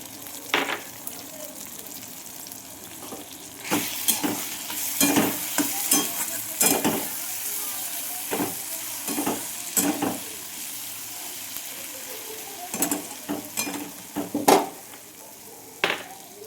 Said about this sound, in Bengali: আমি এতে আদা রসুনের পেস্টটা দিয়ে দিলাম।